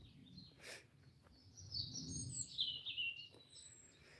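Faint birdsong outdoors during a walk, with high thin chirps and a warbling phrase over quiet background rustle and low ambient noise, and no talking.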